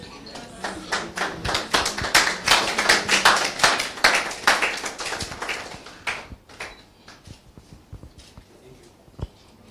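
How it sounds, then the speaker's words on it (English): Moderate applause from a small audience at an energy innovation demo day, individual claps distinct as it swells for a few seconds and then thins out to scattered last claps. "Round of applause, please"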